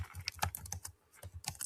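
Keys clatter on a computer keyboard in quick irregular bursts of quiet clicks, with a brief pause midway before the typing resumes.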